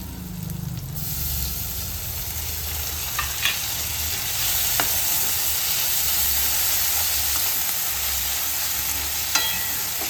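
Tomatoes frying and sizzling in a pan while vegetable masala Maggi is cooked, a steady close hiss with a few brief stirring clinks and scrapes.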